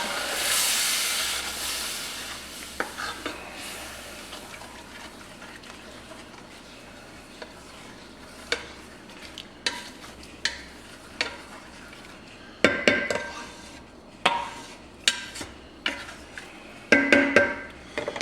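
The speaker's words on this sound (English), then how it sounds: "Mix that up." Taco filling for shredded beef tacos stirred in a pot, a soft steady hiss beneath scraping and clinking of a utensil against the pot, growing busier and louder toward the end, with no voices.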